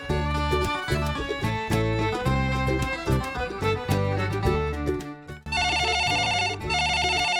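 A telephone rings after a call is placed, a bright melodic ringtone playing loudly in repeated tonal phrases, broken by a brief gap before a higher, buzzier pattern resumes.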